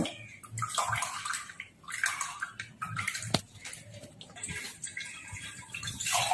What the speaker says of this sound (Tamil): வடிகட்ட ஜூஸை வந்து ஒரு டம்ளரில் வந்து மாற்றியாச்சு